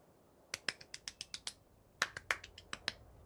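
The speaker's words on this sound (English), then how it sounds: "He golf claps for you guys" A single person gives a soft golf clap, about a dozen light, crisp claps close by, in two short bursts separated by a brief pause, with no talking.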